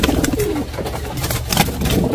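Racing pigeons coo steadily inside a loft, soft repeated throaty calls close to the microphone, with a little rustling and low background noise throughout.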